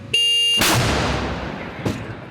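A loud, sharp blast from an artillery gun firing 100-kilogram shells, followed by a long rumbling decay and a second fainter boom shortly after.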